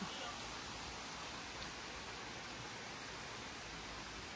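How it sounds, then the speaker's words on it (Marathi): Steady rain hisses without a break, a dense even wash of sound with no voices on top. "इतका सकाळपासून ऊन पडलेलं आणि चक्क आता पाऊसच यायला लागलाय"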